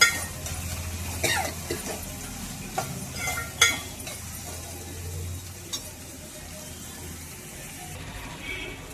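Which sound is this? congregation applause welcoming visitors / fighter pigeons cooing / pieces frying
pieces frying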